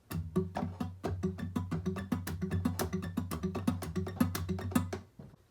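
Fingerpicked acoustic guitar playing a picking pattern at a faster tempo, a steady stream of crisp plucks over a driving thumbed bass, close and solo, ending with a fade.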